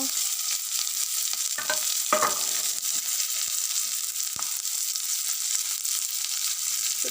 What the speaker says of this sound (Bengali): তেল গরম হয়ে গেছে বন্ধুরা এটাতে আমরা পেঁয়াজ অ্যাড করব বন্ধুরা পেঁয়াজটা দিয়ে দিলাম ভাজার জন্য